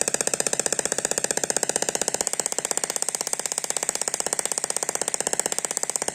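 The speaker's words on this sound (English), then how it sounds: "So you have the cool sparking effect and also the noise that goes with it." Homemade handheld Tesla coil gun discharging, giving a harsh, rapid, evenly pulsed electric buzz with crackling sparks, loud and close and unbroken for several seconds, with no voices.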